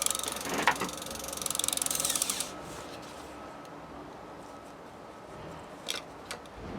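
A ratchet loosening bolts on a vintage bicycle being restored gives a fast, close clicking burst for about two seconds, then quiet with a few faint clicks later.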